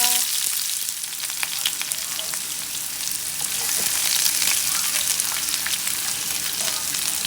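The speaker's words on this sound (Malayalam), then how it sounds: "ഇതിലേക്ക് കറിവേപ്പില ഇട്ടു, 2 വറ്റൽമുളക് ഇട്ടു, ഇതിലേക്ക് സവാള" Curry leaves, two dried red chillies and onion dropped into hot oil with popped mustard seeds, frying in a loud, continuous sizzle with crackling spatters and occasional stirring for the whole stretch.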